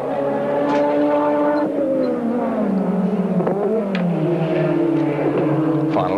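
David Parsons' race car on a hot lap at the 1991 Bathurst 1000 shootout, a loud, close engine whining through gear changes with pitch dropping and climbing again as it brakes and accelerates.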